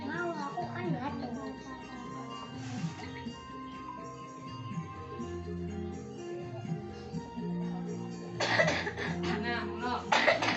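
Children cough into tissues while practising cough etiquette in a lesson for kids in an Indonesian village neighbourhood, with a burst of several close, harsh coughs near the end following chatter and talk from children and an adult.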